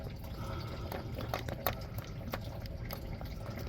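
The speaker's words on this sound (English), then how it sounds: "I noticed once I got this loose that the coolant started to drain a lot faster" Coolant drains from a 2011-2019 Ford Explorer Police Interceptor Utility, a steady trickling, splashing flow of liquid pouring into a container, close and continuous with a few small drips and clinks.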